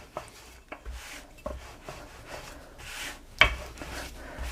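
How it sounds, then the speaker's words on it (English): A rolling pin working paratha dough on a board, repeated soft rubbing strokes with light wooden knocks and one sharper clack, close and quiet, no talking. "And then we're going to roll it out to our desired size."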